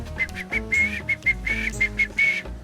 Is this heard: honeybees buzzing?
no